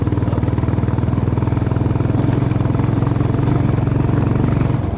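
A dirt bike engine thrums steadily and close by with a fast, even pulse, riding along a mountain road in monsoon conditions near Ama Yangri, with no talk over it.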